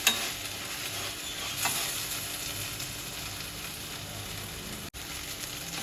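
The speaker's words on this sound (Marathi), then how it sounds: "आता आपण यावर आलं लसूणची पेस्ट घालूया. 1 चमचाभर आहे. छान परतून घेऊया." Ginger garlic paste, about a spoonful, sizzles and is sautéed in a pan for chicken kheema, a steady low frying hiss with occasional soft scraping of a spoon, fairly quiet and close.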